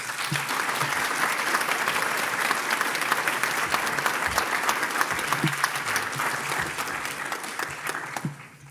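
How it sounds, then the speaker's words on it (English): An audience at a business meeting and awards ceremony in New Orleans breaks into a steady round of applause, dense and sustained for about eight seconds before tapering off at the end. "Please give them a round of applause"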